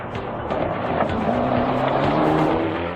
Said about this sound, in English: Tengku Jan and Mohammad Hilmi are going very aggressively in their number 31 Proton